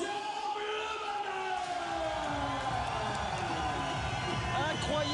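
A crowd at a kickboxing event cheers and applauds loudly as champion Jérôme Le Banner makes his entrance, a steady dense roar of voices with shouts rising over it throughout, under a commentator's voice.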